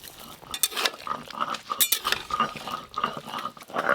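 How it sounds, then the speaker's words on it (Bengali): Metal spoon scraping and clinking against a pan while bottle gourd greens cooked in fish oil with sugar are stirred and mixed, a steady run of close, uneven scrapes and taps with no talking. "এবার এই সব কিছু একসঙ্গে ভালো করে মিশিয়ে নেব"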